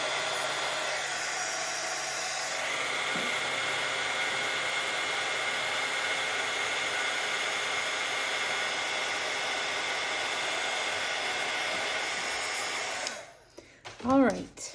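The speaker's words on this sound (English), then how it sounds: "All right, let's heat set this." A heat tool blowing hot air to set embossing powder during a craft session, a loud, steady whooshing roar that runs unbroken before cutting off, followed by a few faint clicks.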